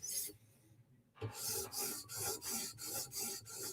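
A Spyderco Military 2 knife with 15V steel drawn across a CBN sharpening stone, a brief pause and then a run of rhythmic rasping strokes, close and clear with no talking.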